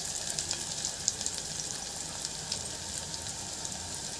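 Food frying in a hot pan gives a steady, dense sizzle with small crackles, even and unbroken throughout.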